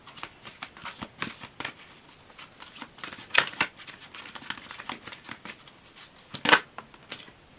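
Tarot cards riffle and flick as a deck is shuffled and cards are drawn, a quick run of close papery snaps with a couple of louder slaps.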